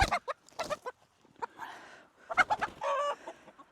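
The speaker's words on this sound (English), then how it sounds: "caught the chicken" A caught chicken squawks and clucks in short, agitated bursts, close and fairly loud, with brief gaps of quiet between the outbursts.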